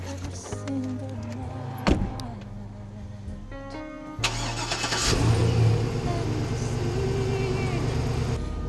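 A car engine turns over and catches at night, then settles into a steady idle before revving up as the car pulls away, with a few clicks and thumps beforehand and the engine growing louder near the end.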